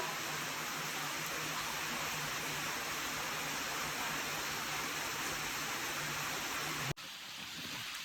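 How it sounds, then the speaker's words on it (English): A waterfall on the Chhabimura trek in Tripura roars as a steady, dense wash of noise that holds evenly for about seven seconds before cutting abruptly to a quieter background. "waterfall."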